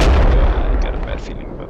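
Mortar fire in the tactical shooter Project Reality: one heavy, loud boom opens the moment, then a rumbling tail fades out with small crackles scattered through the decay.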